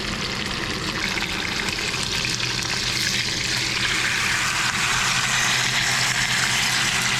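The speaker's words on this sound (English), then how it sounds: "Gonna let those sear in the pan for just a couple minutes" Steaks searing in a hot pan, a steady loud hiss and crackle of fat running unbroken from start to finish with a low hum underneath.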